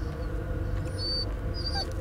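A dog with a broken leg whimpers in the Blair Witch video game, giving thin, high whines in short bursts over a steady low rumble of ambience.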